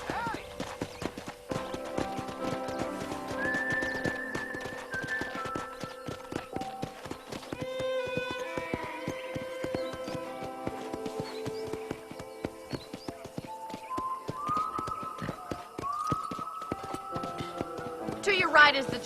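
Steady horse hooves clip-clop at a walking pace around a ranch in the video game Red Dead Redemption, with a brief horse whinny, under continuous music and speech.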